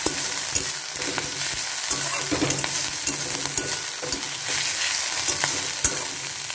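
Cauliflower leaves being stirred with a little salt in a hot pan: close, scraping spatula strokes in an uneven rhythm over a constant soft sizzle, with no talking.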